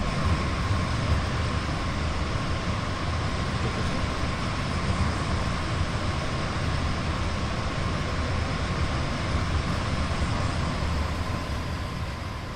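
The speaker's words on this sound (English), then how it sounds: "Just thought I'd take us a bit further from the train then, that was a bit loud." A Stadler FLIRT electric multiple unit passes in the Train Sim World 2 game on the Lucerne to Sursee line, a loud, steady roar of wheels and motors that persists evenly for over twelve seconds without voices.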